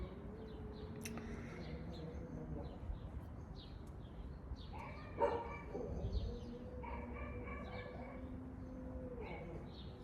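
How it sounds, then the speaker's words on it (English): A next-door neighbour's dog barks a few times in the distance, faint and intermittent against steady outdoor background noise, with birds calling around it. "Can you hear Pedro, my next door neighbour's dog?"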